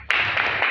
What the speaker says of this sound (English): So can we clap for ourselves once again?